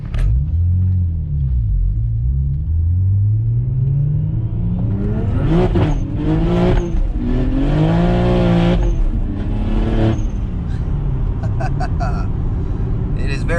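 A single-turbo BMW 335i making close to 600 wheel horsepower accelerates hard through the gears, its engine note climbing in rising sweeps with brief shift breaks, loud and close from inside the car on a cold day.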